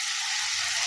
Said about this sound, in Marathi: छान असं मिक्स करून घ्यायचं आणि तळून घ्यायचं.